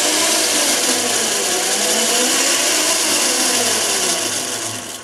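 Homemade motor rig on a variable-speed inverter control runs continuously in a backyard workshop, a loud, steady whirring drone with shifting pitch that fades slightly toward the end.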